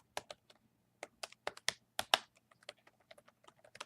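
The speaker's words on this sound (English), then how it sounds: "Now just let me type for a minute here." Typing on a computer keyboard, a quick irregular run of crisp close key clicks with short pauses, alone in a quiet room.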